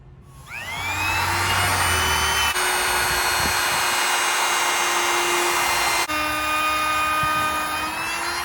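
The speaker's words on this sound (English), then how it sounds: "next I'll be using a router to put a decorative edge on the molding" A router cutting a decorative edge along pine molding, a loud, steady high whine that spins up and holds, shifting pitch slightly as the cut moves along, close by with no voices.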